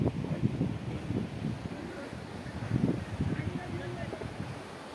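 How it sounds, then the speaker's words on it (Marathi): Cool wind buffets the microphone at a hilltop fort by the sea, low gusty rumbles swelling and fading in uneven bursts, with people talking nearby. "मस्त गारगार वारा सुटला आहे."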